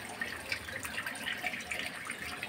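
Water from a catfish pond being drained, a steady broadband rush and trickle with faint splashing, continuous and moderately close with no voices.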